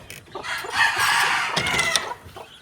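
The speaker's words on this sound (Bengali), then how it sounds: "আর এখানে একটা জুটিয়ালা মুরগি আছে" Chickens on a farm, among them a crested hen, cluck and crow in a busy, overlapping run of calls that holds steady for a few seconds at close range, with no talk.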